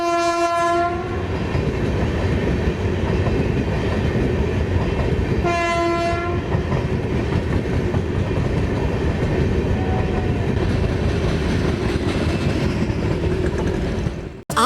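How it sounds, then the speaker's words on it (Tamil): A passenger train bound for Trichy pulls away after its engine was replaced, a loud continuous rumble and clatter of wheels with two sharp horn blasts, one at the start and one about six seconds in. "ரயில் புறப்பட்டு திருச்சிக்கு சென்றது"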